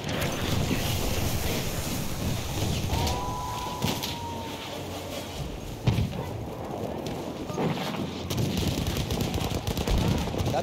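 Machine gun fire in Battlefield 1 rattles in steady bursts through wind and battlefield din, fairly loud and continuous, with a sharp crack near the middle and a voice calling out beneath.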